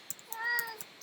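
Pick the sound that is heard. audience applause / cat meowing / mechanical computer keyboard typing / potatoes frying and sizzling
cat meowing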